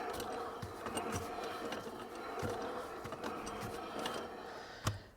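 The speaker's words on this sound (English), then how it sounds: "Wheels are turning, it's clicky, clackety noise, like pieces of metal and bits of gears are just" A 2006 Volvo XC70 with no forward or reverse drive, its wheels turning while the drivetrain gives a continuous metallic rattle with rhythmic clicks and a sharp clack near the end.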